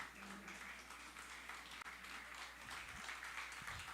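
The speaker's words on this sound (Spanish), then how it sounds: "bríndele un fuerte aplauso a Dios" A church congregation applauds steadily in a worship service, a dense, continuous wash of clapping that holds at an even level throughout, with a faint low hum underneath.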